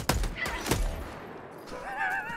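Gunfire in Helldivers 2, with two or three sharp shots close together near the start and then a fainter rattle, followed by a brief voice-like whining tone.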